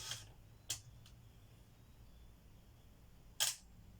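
Minolta 9000 SLR camera, tested after repair at F11 with the shutter set slow: a sharp opening click, two quick mechanical ticks, then the closing clack about three seconds later in a quiet room.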